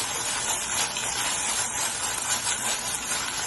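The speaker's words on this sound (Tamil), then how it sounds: "இஞ்சி பூண்டு பேஸ்ட் போட்டு நல்லா வதக்கி விட்டாச்சுங்க." Ginger garlic paste sautéing in a pan gives a steady, loud, close hissing sizzle that holds evenly throughout with no pauses and no talk.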